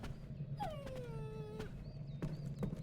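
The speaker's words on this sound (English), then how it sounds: "That dog sounds so sad." A dog in the video game Lost Odyssey lets out a long, drawn-out sad whimper, followed by shorter whines, close and fairly clear over a low background hum.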